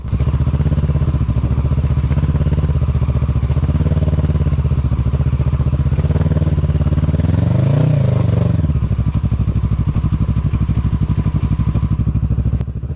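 Motorcycle engine running steadily and loud throughout, with a rising rev and rumble midway as the bike slides out and tips over to the right on slippery ground, followed by continued idling.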